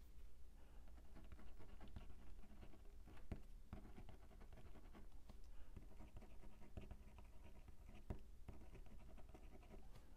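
A pen scratches across the pages of a paper planner in soft, steady strokes with small taps and pauses, close but faint over a low background hum.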